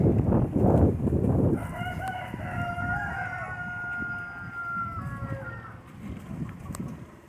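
Laying hens cluck and call nearby, with a long drawn-out call in the middle and a low rumble of background noise underneath.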